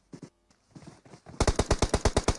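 Rapid bursts of automatic gunfire in PUBG Mobile, about nine loud evenly spaced shots in quick succession following a few fainter, scattered sounds.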